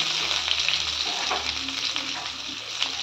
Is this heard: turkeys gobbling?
no